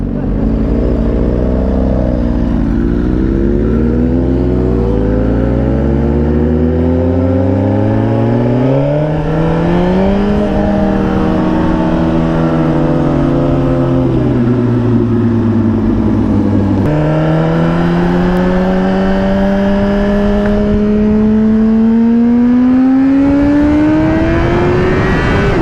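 A motorcycle accelerates hard through the gears, its loud, close engine note rising steadily in pitch, then dropping briefly at each shift before climbing again, with three or four shifts in all.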